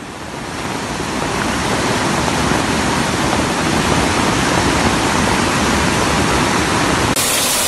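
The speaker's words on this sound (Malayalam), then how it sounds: "കോട്ടയം എരുമേലി തൂമരംപാറയിൽ ശക്തമായ മലവെള്ളപ്പാച്ചിൽ" A powerful flash-flood torrent surges down a hillside stream at Thoomaramppara near Erumeli, Kottayam, after an hour of heavy rain, a loud, dense, unbroken roar of rushing water swelling in over the first second.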